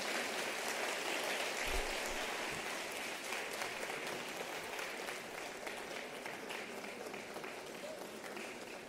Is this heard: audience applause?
yes